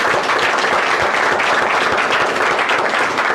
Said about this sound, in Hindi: एक बार सर के लिए ताली बजा दीजिए